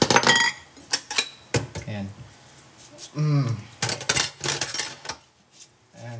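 Spoons and dishes being washed by hand, with repeated metallic clinks and clattering of cutlery and plates in bursts near the mic, while a person talks on and off.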